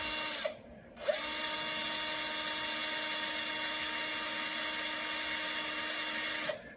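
A drill motor spins a 1973 Mustang distributor on a bench at roughly 500 RPM, giving a loud, steady whine that cuts out briefly near the start, spins back up and runs on before stopping.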